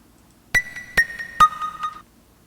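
Unprocessed plug synth preset from a Team MBL pack plays alone: five short, clean plucked notes in a quick rising-and-falling run, each with a sharp attack and fast decay, then silence.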